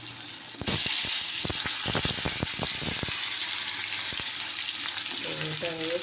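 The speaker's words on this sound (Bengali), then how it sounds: "এবার আমার তেল দিয়ে দিয়েছি, তেল গরম হয়ে গেছে। তো পটলা একটা করে" Pieces of pointed gourd (potol) dropped one by one into hot oil, setting off a loud, steady sizzle with sharp crackles at the start and a few light clinks of a utensil.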